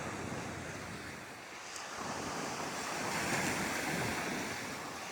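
Ocean surf rolls steadily onto South Beach in Miami on an early Saturday morning, a continuous wash of waves mixed with gusting wind buffeting the microphone, swelling slightly toward the end.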